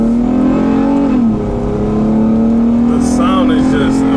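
Car engine revving hard in a garage, a loud, close roar that holds, dips briefly, then climbs again, with excited cheering near the end.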